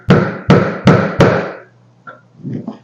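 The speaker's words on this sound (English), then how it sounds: "I'm just using a little punch to make a small hole in the" Four hard, evenly spaced metallic hammer blows ring out close by as a punch is driven into a metal door, then a few light taps and faint clinks.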